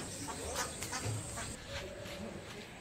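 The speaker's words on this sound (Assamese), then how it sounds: "ভণ্টিহঁতৰ চাওকচোন কিমান হাঁহ আছে।" Ducks quack in a busy, close flock at a family home, with a steady din of calls and voices talking over them throughout.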